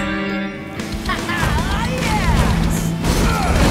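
Cartoon monster trucks smash through a pile of old junk in a crashing, clattering burst that builds and stays loud, mixed with busy engine and effects noise, with cheering voices over the top.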